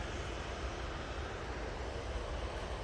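A Jet2 airliner taxiing at Manchester Airport gives off a steady, broad engine roar that holds at an even, moderately loud level throughout, with no voices.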